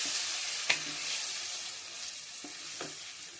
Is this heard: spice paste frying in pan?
yes